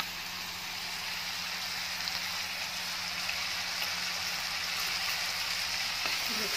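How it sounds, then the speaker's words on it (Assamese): Capsicum fries in a pan with turmeric, cumin powder and homemade masala, giving a steady, close, hissing sizzle that holds evenly throughout without any voices. "অকণমান ক্যাপসিকামবোৰ কোমল হোৱালৈকে ভাজিব লাগিব।"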